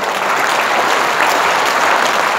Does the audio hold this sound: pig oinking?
no